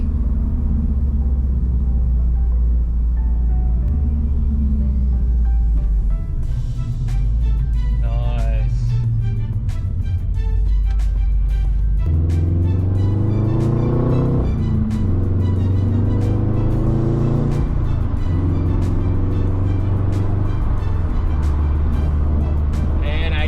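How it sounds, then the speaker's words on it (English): A 2008–2014 Subaru WRX with new brake pads drives on the road: a steady engine and road rumble rises through the gears as it speeds up, then eases off under braking, heard from inside the car. "let's get up to about 60 Ks. And let's apply a brake."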